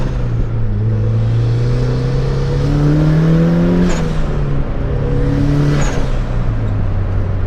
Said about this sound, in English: hearing all these boost noises